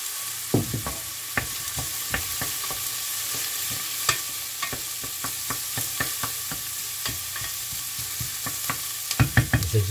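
Garlic added to hot oil in a pan for red lentil dhal, a bright continuous sizzle broken by repeated sharp scraping taps of a utensil stirring, with a busier cluster of clatter near the end.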